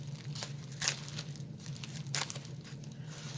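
Heavy scissors open a package, giving faint crinkling and a couple of short crunching snips against a low steady hum.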